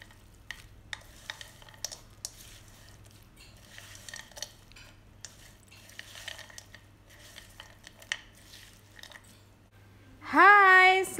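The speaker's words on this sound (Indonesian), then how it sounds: "Diaduk-aduk sampai rata." Sambal goreng teri kacang tanah, anchovies and peanuts in chili sauce, is stirred in a frying pan, with repeated scraping and clinking of a utensil against the pan over a faint sizzle. A voice briefly speaks at the end.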